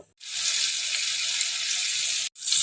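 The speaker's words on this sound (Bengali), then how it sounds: "এটা দিয়ে আমি এখন ভাজবো, মশলাটা কষবো" Ginger, cumin powder and green chili paste masala sizzling steadily in hot oil, a loud close continuous hiss that cuts out briefly near the end before resuming.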